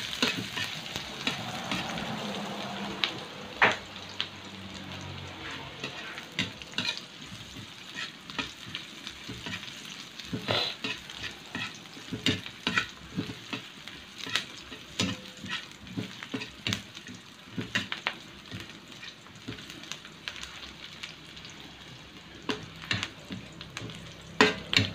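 Onion and garlic sizzling and crackling in a frying pan, a continuous soft hiss with scattered pops and occasional stirring scrapes, fairly quiet and close.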